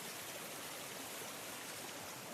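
Steady broadband rush of a mountain stream at a trail crossing on the Cataloochee loop in the Smokies, continuous and fairly quiet, with no voices.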